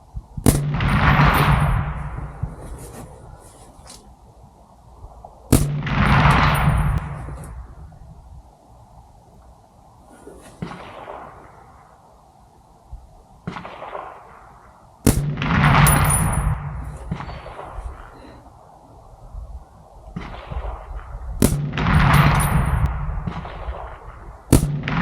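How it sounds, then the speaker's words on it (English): Suppressed gunshots from a Ruger SFAR rifle firing cheap FMJ ammunition, five sharp muffled reports spaced several seconds apart, each followed by a long fading outdoor echo. "First shots with the new suppressor on this."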